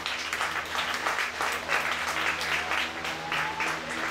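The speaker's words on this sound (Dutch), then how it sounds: "Mag ik een applaus voor de president?" An audience at a school bag project launch in Atjoni, Suriname, applauds the president with sustained, even clapping from a sizeable crowd, with a low steady hum underneath.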